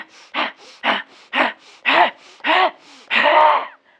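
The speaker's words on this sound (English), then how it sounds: "Kapalabhati. That's why the breaths are so sharp." Sharp, forceful kapalabhati yoga breaths, a rapid rhythmic series of about eight loud nasal exhales and inhales ending in one longer gasping breath, close and without talk.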